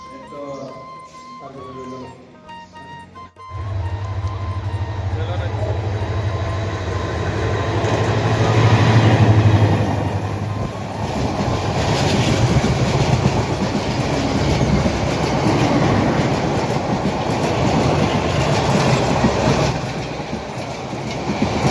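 A train runs through Gangasagar railway station in Akhaura, Brahmanbaria. People talk at first, then from about three seconds in a loud, close rumble with rhythmic wheel clatter swells and carries on to the end.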